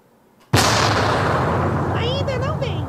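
An artillery gun salute for a deceased prince in England fires one sudden loud boom that rolls and echoes for seconds, with faint voices over the tail.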